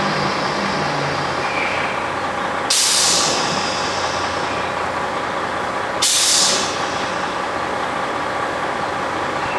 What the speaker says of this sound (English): The air pins re-engage.